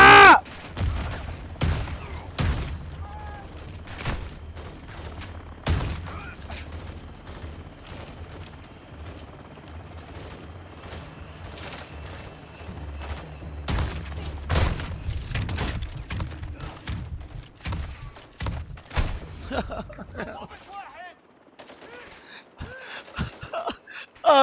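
Shotgun blasts in Call of Duty Modern Warfare II, a string of sharp, loud booming shots spread over a busy in-game firefight with steady low rumble and background game noise, ending in a quieter stretch.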